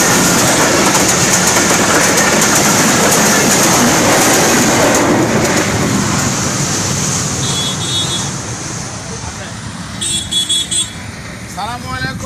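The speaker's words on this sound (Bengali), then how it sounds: "ট্রেন চলে আসছে, দেখুন কত স্পিডে আসছে ট্রেন।" A train approaching at speed rumbles in as a loud, continuous roar that builds, then eases slightly, with a couple of brief horn-like tones near the end.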